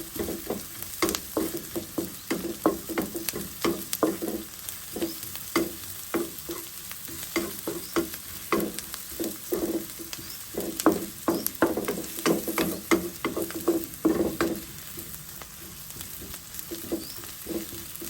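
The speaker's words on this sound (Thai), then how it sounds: "เจียวหอมให้เหลืองค่ะ" Shallots fry golden in a pan for Thai stir-fried rice noodles, a steady close sizzle broken by frequent sharp scrapes and clacks of a stirring utensil, with no voices.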